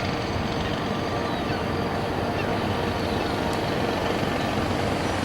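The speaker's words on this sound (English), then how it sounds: "Truck." A truck passes along a downtown street by a river, a steady, loud broadband roar of engine and tires filling the whole stretch without letting up.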